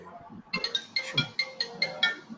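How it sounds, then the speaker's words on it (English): A phone ringtone chimes in a repeating pattern of bright electronic bursts, with faint low murmuring underneath. "Somebody's mobile is ringing."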